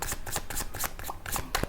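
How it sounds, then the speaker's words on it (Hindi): Tarot cards are shuffled briskly in the hands, a quick series of close, crisp riffling bursts and papery flutters in a steady rhythm with no talking. "और कार्ड्स निकालते हैं तो थोड़ा सा क्लैरिफाई और हो पाएगा"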